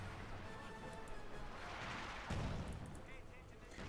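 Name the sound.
grenade explosion in Company of Heroes 2 video game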